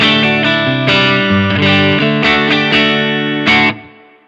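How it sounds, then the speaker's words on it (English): A distorted electric guitar played through a Strymon Iridium with full reverb plays a series of ringing chords, each strike washing into the next before a final chord decays into a long tail. "I'll put the whole reverb on."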